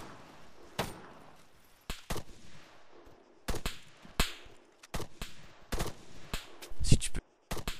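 Scattered gunshots and short bursts from a firefight in the ARMA III video game, some sharp and near and others echoing farther off, with irregular gaps between them and no talking.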